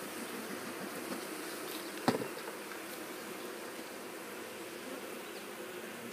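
Honeybees buzz in a soft, continuous hum around a queenless hive being smoked, with one sharp tap or knock partway through.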